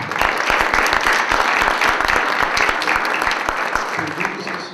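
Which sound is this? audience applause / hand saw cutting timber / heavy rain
audience applause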